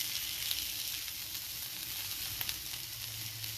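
Bacon pressed flat under a Blackstone press sears on a Blackstone griddle, a dense, steady, close sizzle with occasional small pops and no talking.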